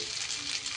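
Cubed potatoes and pointed gourd fry in oil in a pan, a steady close sizzle with light crackling that runs without pause, no voices.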